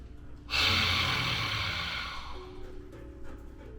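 A lion's breath exhale from Simha Kriya pranayama: one forceful, breathy whoosh bursts out loudly and then fades slowly into quiet breathing.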